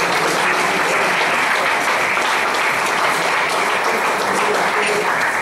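An audience claps loudly and continuously through a tribute event for a priest, a dense, even wash of applause.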